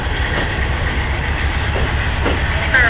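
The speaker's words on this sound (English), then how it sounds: "Amtrak number 8 gets back underway" Steady low rumble of Amtrak passenger train number 8 getting underway on the BNSF line over Marias Pass, with continuous mechanical noise and faint rhythmic clatter, close by and fairly loud.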